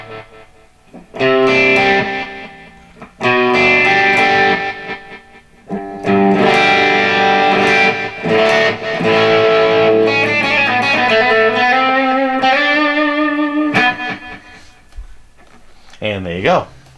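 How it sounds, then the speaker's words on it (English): Boss Katana MkII guitar amp playing through a reverse echo effect, bursts of sustained distorted guitar notes and chords swelling in and cutting off, loud and close, with echoes trailing behind. "so that's the reverse echo"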